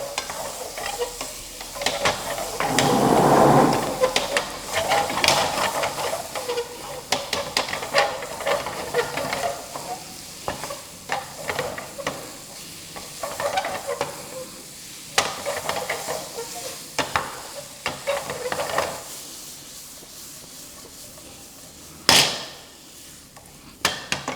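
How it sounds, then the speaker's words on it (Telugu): Paneer cubes fry in a pan, loud sizzling and hissing at first, then settling into steady frying broken by repeated sharp scraping stirs of a spatula, with one loud clank near the end. "పన్నీర్ యాడ్ చేసుకుందాం పన్నీర్ యాడ్ చేసుకొని ఫ్రై చేసుకుందాం"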